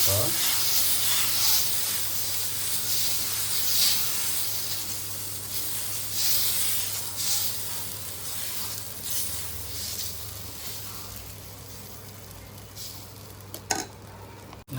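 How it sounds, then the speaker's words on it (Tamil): Pesarattu dosa batter sizzling on a hot pan, a steady broad hiss with a low hum beneath and a person talking briefly over it. "தோசை ஊற்றிக்கலாம். பெசரட்டு ஊற்றிக்கலாம்."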